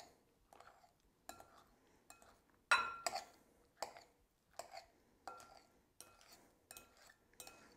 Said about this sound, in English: And then I just rotate the bowl and just keep slicing